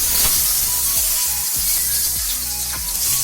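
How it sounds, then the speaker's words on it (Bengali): Eggs fry in hot oil with a pinch of turmeric, a loud, close, continuous hissing sizzle broken by sharp spits and pops. "এখন আমি ডিমগুলো ভেজে নেব।"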